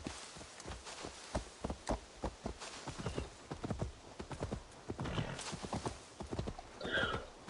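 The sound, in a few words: horse hooves in Assassin's Creed Valhalla video game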